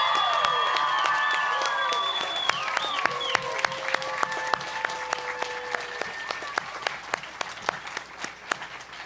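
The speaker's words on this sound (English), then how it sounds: "Please join me in a round of applause for them." An audience at a 2024 Grier School graduation ceremony gives a sustained round of applause for the graduating class, dense clapping with whoops and cheers mixed in, steady throughout and trailing off toward the end.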